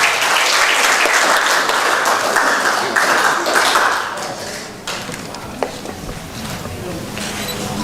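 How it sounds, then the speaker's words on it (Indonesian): Loud, enthusiastic applause from a crowd at a union rally against a health omnibus bill, strong for about four seconds and then thinning into scattered claps with voices. "Oke, sekali lagi berikan tepuk tangan yang meriah."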